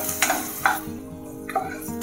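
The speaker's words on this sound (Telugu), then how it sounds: "ఆనియన్ మంచిగా ఫ్రై అయ్యేంత వరకు నిదానంగా మాడకుండా కలుపుకోవాలి." Onions frying in a pan while a spoon stirs them slowly, soft sizzling broken by a few sharp scraping clinks of utensil against metal at irregular intervals.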